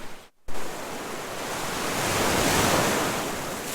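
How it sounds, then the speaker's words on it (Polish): Big Black Sea waves at Sozopol, Bulgaria, surge and wash in a continuous roar of surf, swelling louder midway, with wind rushing against the microphone. "są za duże fale, zaraz będę cała mokra"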